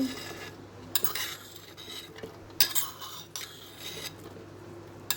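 Falsa berries drop into a jug in several quick rattling bursts, close and crisp, with soft scraping and clinks between the pours and no talking.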